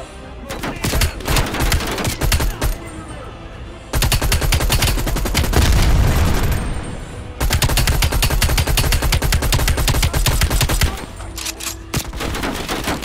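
An RPD machine gun in Call of Duty: Black Ops Cold War roars in long, loud sustained bursts of rapid fire, with brief pauses between strings of shots.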